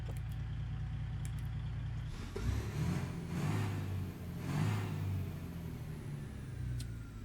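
A Freightliner FLD truck with a big-torque 1440 engine in American Truck Simulator, its low diesel rumble steady, then surging in several rising and falling rev waves before settling back to a smooth hum.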